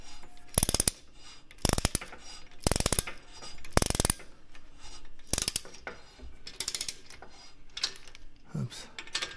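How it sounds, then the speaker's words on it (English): A ratchet tightens home gym hardware in a series of sharp, loud bursts of fast clicking, each about half a second long, with quieter handling noise between them. "And our ratchet and torque this guy down."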